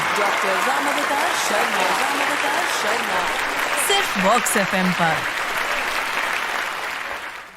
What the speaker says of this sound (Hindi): जोरदार तालियों के साथ स्वागत कीजिए the mindful doctor, the health guide, doctor Ramavatar Sharma.